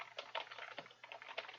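Typing on a computer keyboard in a Word document, a steady run of close, crisp key clicks with small irregular bursts and no talking.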